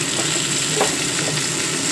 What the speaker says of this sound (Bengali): এবার আলুগুলো কড়াইয়ে দিয়ে ভালো করে আমি ভেজে নেব।